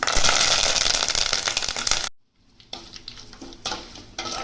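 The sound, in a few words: curry leaves frying in oil for vangibath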